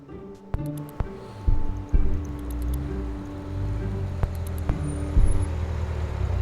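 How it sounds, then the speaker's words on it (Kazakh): A car arrives and idles with its engine running at an evening presentation event, a moderate low hum broken by a few sharp clunks and knocks, with faint background noise and no clear talk. "Машина міне!"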